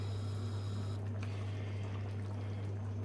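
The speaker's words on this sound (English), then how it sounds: "let that simmer for a little bit" A pot of herbes de Provence sauce bubbles and simmers with a soft liquid burble over a steady low hum, close by and without talk.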